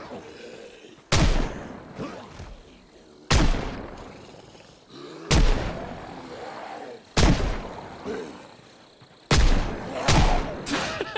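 Heavy video-game gunshots boom out five times at irregular intervals, each a loud sharp blast that decays into rumbling echo, with a voice grunting and talking between shots.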